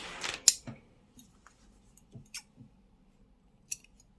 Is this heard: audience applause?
no